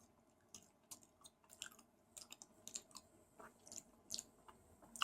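Close, quiet chewing of a hard-shelled Swedish Easter chocolate egg, with irregular crunchy bites, clicks and wet mouth sounds in a near-silent room.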